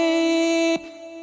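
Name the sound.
reversed vocal riser effect made in Logic Pro X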